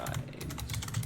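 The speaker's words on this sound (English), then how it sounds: "I'm gonna type again. Warning for typing." Fingers tap quickly on a computer keyboard, producing a dense, steady patter of close, crisp key clicks with no talking over them.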